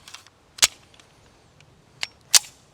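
A Tisas 1911A1 pistol fires Federal 230-grain defensive rounds: two sharp, loud shots about two seconds apart, with a fainter crack just before the second, against a quiet background.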